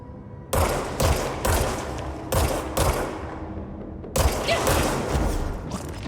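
Enemy gunfire in the video game Control, loud bursts of automatic fire in several volleys with short gaps between them, close and heavy, with no talking.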